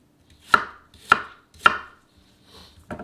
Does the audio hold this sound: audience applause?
no